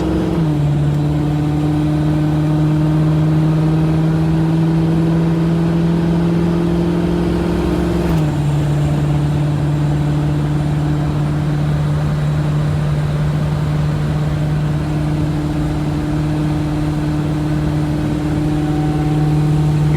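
A supercharged Foxbody car with an automatic transmission cruises at steady throttle, its engine a loud, continuous drone with a steady pitch that dips briefly midway, then settles and holds without breaks.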